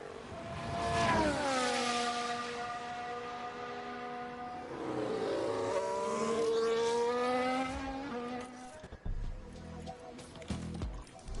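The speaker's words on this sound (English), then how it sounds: "that car sounds a bit rough" Racing car engines in F1 Manager 22 at Suzuka whine and rise in pitch, one car accelerating then a second pass, loud and close, followed by scattered clunks and rumbles.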